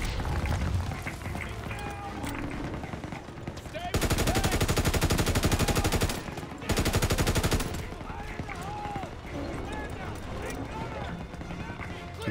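Two loud bursts of rapid automatic fire, shooting at enemy gunners in the World War II shooter Call of Duty: WW2, set against quieter battle sounds and a voice speaking throughout.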